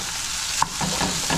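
Rice tossed into a hot pan for homemade fried rice, a continuous bright sizzle with a sharp clink of a utensil partway through followed by faint stirring scrapes, close up.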